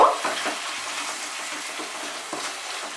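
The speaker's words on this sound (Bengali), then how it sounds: "টমেটোটাকে একটু মিশিয়ে মিশিয়ে দেব" Tomatoes stirred in a hot frying pan for a vegetarian potol kalia, with a moist sizzle and a few scraping spoon strokes, close and steady without talk.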